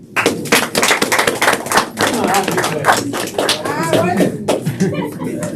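Audience applause at the KasiKonnect official launch event: a dense, steady wash of clapping hands that fills the room for several seconds, with voices and light chatter mixed in.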